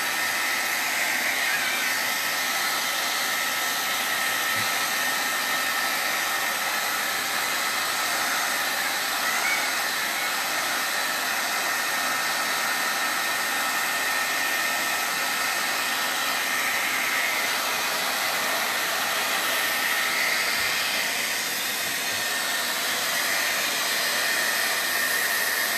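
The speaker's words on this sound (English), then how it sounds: "I'm gonna dry with a hair dryer." A hair dryer blows steadily for the whole stretch, a loud continuous whooshing hiss with no pauses, used to dry wet artwork in an art class.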